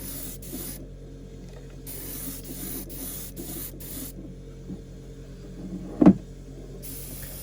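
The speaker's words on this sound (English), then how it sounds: "I know this is boring to watch me literally spray one colour over the head" Acrylic paint sprays in light coats onto the head of a studio-scale AT-ST model, coming as several hissing bursts separated by quiet gaps, with a brief bump of handling noise near the end.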